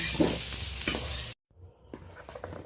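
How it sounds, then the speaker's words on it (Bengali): Sweet potatoes fry in a wok with a dense close sizzle and stirring scrapes, cut off abruptly to silence, then a quieter sizzle returning with a few light knocks. "মিষ্টি আলুটা ভাজা হয়ে গেছে হালকা লালচে করে ভেজে নিয়েছি"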